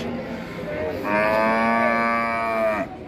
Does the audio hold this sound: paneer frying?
no